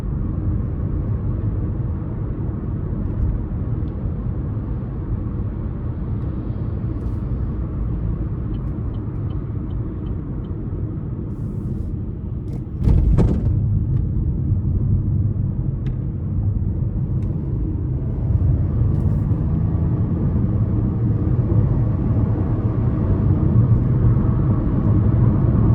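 A 2024 Chevrolet Trax with a 1.2-liter turbo three-cylinder accelerates onto an interstate, heard from inside as a dense, rising engine and road rumble that swells slightly after a brief clunk midway.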